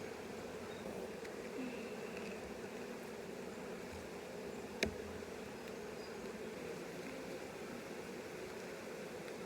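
A steady, dense hum of many honeybees buzzing close by in a hive, continuous throughout with one brief knock partway through.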